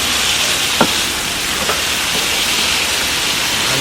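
Coconut milk simmering with seasoned mushrooms in a pan gives a steady, even sizzle and bubbling hiss, with two faint utensil taps early on and no talking.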